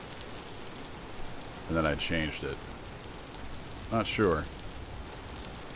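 Steady hiss of rain in the survival game Vintage Story, a constant broadband wash running the whole time, with a voice talking briefly over it in two short bursts.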